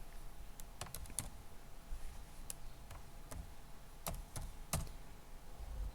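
Typing on a computer keyboard while entering a formula, scattered crisp key clicks in an uneven rhythm, close and fairly quiet over a steady background hiss.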